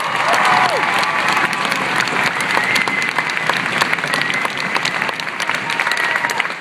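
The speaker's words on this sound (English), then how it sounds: "let's give them a round of applause" A large crowd at a military basic training graduation on a field claps steadily and continuously, a dense, loud wash of applause with faint murmurs mixed in.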